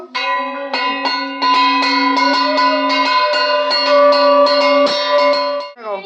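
A bell is rung loudly and rapidly, close by, with a bright metallic ring that keeps going in dense repeated strikes for several seconds before cutting off.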